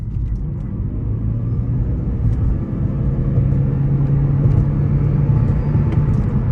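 A Lexus CT200H F Sport hybrid car accelerates from inside the cabin with a steady low rumble and whir that builds gently and holds, no one speaking over it.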